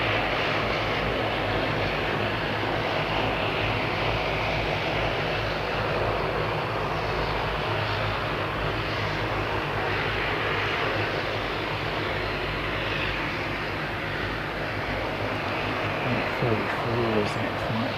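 Dash 8 turboprop departing Christchurch for Nelson, a loud, sustained propeller-engine drone with a steady low throb, voices murmuring faintly beneath it.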